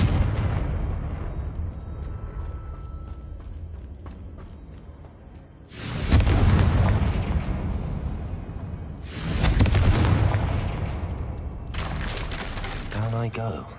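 Confringo fire spell blasts in the video game Hogwarts Legacy: three heavy booming explosions, each a sudden loud burst that rumbles and fades over a few seconds, following a quieter rumbling stretch.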